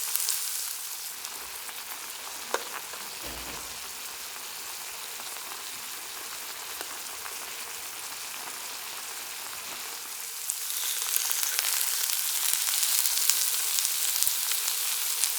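Meat dropped into a hot pot alongside vegetables for Hokkaido-style Genghis Khan cooked over a campfire, sizzling and frying steadily throughout, growing louder and brighter in the last few seconds as more meat hits the pan.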